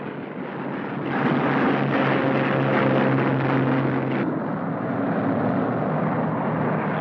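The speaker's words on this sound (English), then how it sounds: "The first squadron is off, and the second gets away from the other runway." Squadrons of WWII Republic P-47 Thunderbolt fighters taking off from a runway, a loud, continuous propeller-engine roar that swells and holds steady with droning tonal hum, no voices.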